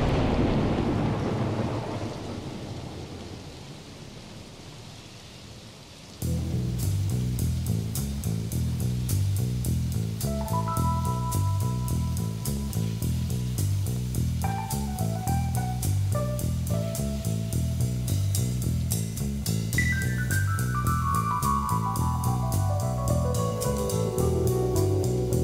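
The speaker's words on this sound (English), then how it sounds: "Well, it's raining." Steady rain falls during a cyclocross race, a broad continuous wash with no voices, joined by a dense pulsing, clanking pattern that runs without a break to the end.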